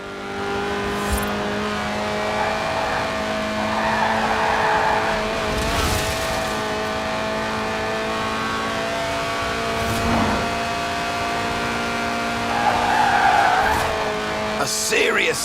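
A lightweight car in Forza Horizon 4, with a high-revving 1.8-litre engine making 190 horsepower, holds a steady sustained engine note while its tyres squeal and skid through slides. Brief bursts of talk come in over the engine.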